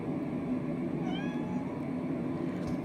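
A pet cat gives a single short meow partway through, clear and fairly close, over a steady low background hum with no talking.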